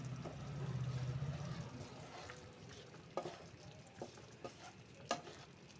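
Garam masala powder and a spoonful of ghee being stirred into a vegetarian chickpea dal with jackfruit, a soft bubbling simmer with a low hum early on, then scattered scraping clicks of a spoon against the pot.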